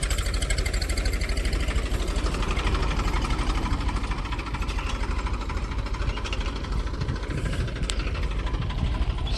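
A tractor engine runs steadily in a farm field while sowing wheat, a loud, continuous mid-pitched chug with a faint knocking rhythm and no talk over it.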